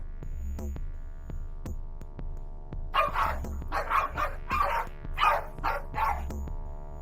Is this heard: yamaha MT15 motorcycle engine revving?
no